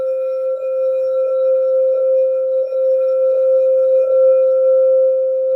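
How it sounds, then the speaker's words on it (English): A crystal singing bowl struck on its outer wall rings with a steady sustained pure tone and faint overtones, pulsing gently in slow regular swells as the rim is rubbed, close and clear with nothing else present. "I like playing it on the outside though because I like the sound of the crystal."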